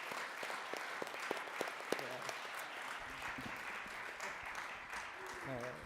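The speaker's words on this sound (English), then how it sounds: "let's give a round of applause to all the panelists today" Applause for the panelists at the Pittsburgh Racial Justice Summit: a crowd claps at moderate volume while people keep talking and cheering over it, with a few sharp individual claps standing out early on.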